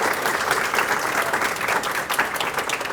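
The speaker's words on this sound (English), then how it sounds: "Let's give her a big round of applause." An audience claps for the author at a book event for the memoir First Gen, a full, lively burst of applause from many hands, continuous and fairly loud throughout.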